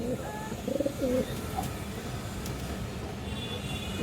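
A pair of Gorra pigeons coos softly, with a few low rounded calls in the first second and a half, then a steady hum of background noise.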